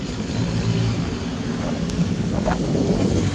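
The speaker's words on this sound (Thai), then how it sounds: "วันนี้ลมแรงลมตีผักตบเข้ามาเต็มเลย" Strong wind gusts sweep across open water, driving floating water hyacinth toward the bank, with a steady loud broadband roar and buffeting on the microphone and no voices.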